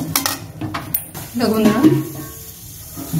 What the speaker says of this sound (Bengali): মুগ ডালটা আমি একটু ভেজে নিচ্ছি, দেখো হালকা একটু ভেজে নিতে হবে।